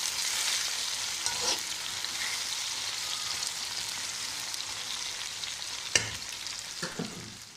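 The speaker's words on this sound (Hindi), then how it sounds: "अब ये सबसे पहले ये अच्छी तरह फ्राई हो जाए।" Potatoes, eggplant and onions fry in a pan with a steady, close, crackling sizzle, broken by a few sharper stirring clicks and scrapes near the end; no one speaks.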